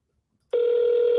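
A telephone starts ringing abruptly after a brief silence, a loud, steady electronic tone that continues to the end with no talk over it.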